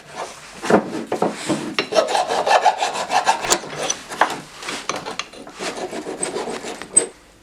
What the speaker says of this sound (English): file just like this, then we just go over it a little bit, try to get all the grime off there if there is any